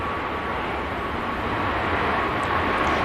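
A Ryanair jet touches down behind a BA aircraft at Manchester Airport, giving a constant broad roar of engine and rushing air that stays loud and even throughout, with no voices.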